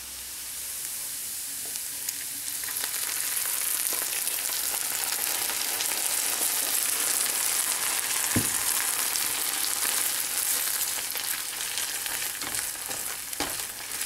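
Eggs fry for fried rice with a steady, dense sizzle that stays loud and even throughout, broken now and then by faint clicks and stirring scrapes. No one speaks.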